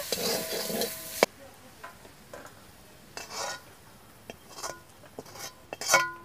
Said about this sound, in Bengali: এবার নেড়ে চেড়ে ঢেকে দেব ঢাকনাটা খুলে দেখব কীরকম হয়েছে টান টান করে ভেজে নিতে হবে